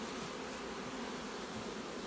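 Honey bees in a hive preparing to swarm make a dense, continuous buzzing hum, steady and close throughout with no pauses.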